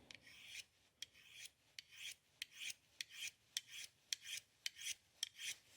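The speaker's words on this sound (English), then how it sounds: "We'll see if we can get just the edge back with a ceramic rod that's made for sharpening." Repeated rasping strokes of a Stanley 10-049 knife edge drawn along a ceramic sharpening rod, about a dozen evenly spaced bright scraping passes, close and fairly quiet with no talk.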